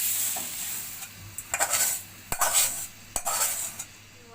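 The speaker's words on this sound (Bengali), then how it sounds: "এখন আমি একটা সার্ভিং ডিশে সার্ভ করব।" Cooked red spinach fry being scooped and served from a pan into a serving dish, with several sharp scraping and clinking spoon strokes against the cookware, close and fairly loud over a quiet background.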